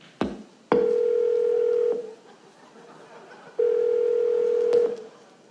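A telephone call is placed and the line gives two long, steady electronic ringing tones separated by a pause, with faint clicks at the start, close and clear with no talking.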